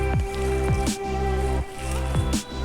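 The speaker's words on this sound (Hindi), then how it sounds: "आटे की तरह इसको मैं गूँधूँगी।" Hands knead a chapli kabab mixture like dough, producing repeated soft, wet squishes and slaps at an uneven rhythm, close up over a steady low hum.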